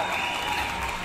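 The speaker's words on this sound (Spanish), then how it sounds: "en este momento voy a poner aplausos" Short burst of applause sound effect dropped in over a motorcycle motovlog, a dense steady wash of clapping at moderate level with no voices.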